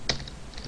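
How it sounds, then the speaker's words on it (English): Quick keystrokes on a computer keyboard while entering Java code, a sharp near click followed by a few softer taps in a brief burst. "Just type system out print line."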